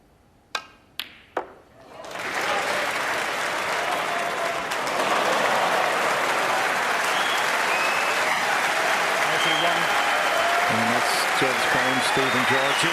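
Snooker crowd at the 2018 Masters semi-final bursts into loud, sustained applause after a few sharp cue-ball knocks, clapping continuing steadily to the end with a commentator's voice faintly underneath.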